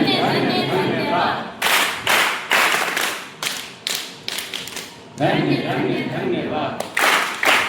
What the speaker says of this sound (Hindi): मैं अपने सारे प्रतिभागियों से अनुरोध करूँगा कि उस स्मृतियों को एक बार धन्यवाद ताली बजा दें